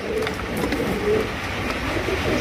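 Pigeons in a loft, Spanish pouter types among them, give low soft coos that drift on and off through a steady background murmur, never very loud.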